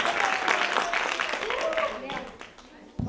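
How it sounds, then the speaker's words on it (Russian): Audience clapping in a concert hall during a stage introduction of performers, spread across the crowd, mixed with a voice and some music, thinning out toward the end. "Ваши аплодисменты."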